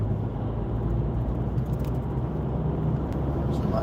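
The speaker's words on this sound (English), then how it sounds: "Traffic seems to be quite heavy, really." Steady low rumble of heavy road traffic heard from inside a car moving through busy daytime streets between Salford city centre and Wigan, a continuous engine and road drone with no sharp events.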